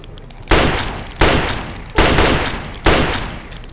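In Fallout 3, a .32 pistol fires four loud, sharp shots at an uneven, deliberate pace, each followed by a short decaying echo. No voices are heard.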